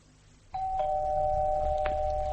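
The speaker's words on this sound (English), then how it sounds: "You can't live in fear of the doorbell for the rest of your life." A doorbell rings in a 1979 BBC radio drama, a single clear electronic tone that starts abruptly and holds steadily, close and loud, with no voices.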